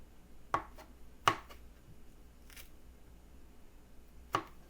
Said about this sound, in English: I think this type of chopping is called rustic.